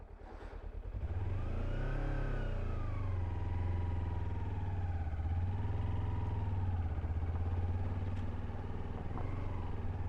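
A Kawasaki Versys X 300 motorcycle works its way across a patch of mud, the engine rising and then holding a strained, wavering drone that surges and dips in pitch for several seconds, fairly close.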